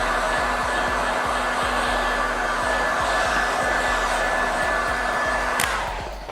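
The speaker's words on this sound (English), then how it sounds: "I'm going to break out the heat gun" Steady, loud blowing roar of a heat gun running continuously up close while softening material, with a faint low rhythmic ticking underneath, cutting off near the end.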